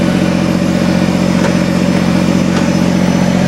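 A diesel engine holds a steady run at around 1,500 RPM, a loud, close, even rumble with a constant low hum and no change in pace, apart from a couple of faint clicks.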